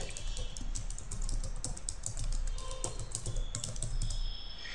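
A domain name is typed on a computer keyboard: a steady, close run of quick keystroke clicks continues for several seconds, with no one talking.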